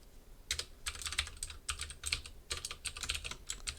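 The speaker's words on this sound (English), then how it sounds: "I'm typing F5" Rapid bursts of typing on a computer keyboard during a computer science lecture, clicking keystrokes in uneven clusters that pause briefly and then resume, fairly close and with no voice over them.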